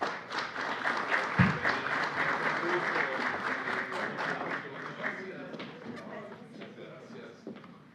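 Audience applauding at a seminar on the accusatory criminal justice system, a dense steady wash of clapping that holds for the whole span and thins slightly toward the end, with a soft voice beneath it.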